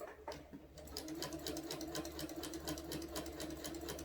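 A sewing machine runs steadily, stitching through a quilted placemat with a continuous fast mechanical whir and needle chatter, close and fairly quiet, with no talking.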